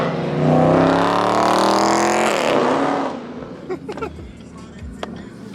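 A car racing along a street in Virginia Beach roars past close by, its engine loud and rising before it sweeps away. A few faint knocks and thuds follow in the quieter tail.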